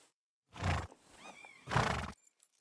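A horse in the medieval video game Kingdom Come Deliverance 2 neighs twice, two loud close whinnies separated by a brief breathy snort, with no talk.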